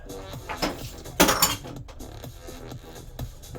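Bowls and other kitchenware are handled while noodles are being prepared, giving a few close clinks and knocks with one sharper clatter in the middle and quieter handling sounds around it.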